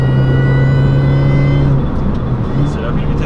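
Mini John Cooper Works GP engine running loud and close with a strong steady drone, then the pitch drops and shifts partway through as the car downshifts.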